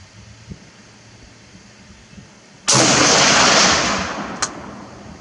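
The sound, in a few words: IMI X95 5.56x45mm rifle shot and impact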